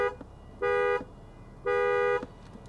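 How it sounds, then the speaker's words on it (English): Two loud, steady horn blasts from a 2020 Lexus RX 350 F Sport, each held for about a third of a second, separated by a short pause, close by with no talk. "let's honk the horn and see how the horn sounds on the 2020 Lexus RX 350 F Sport"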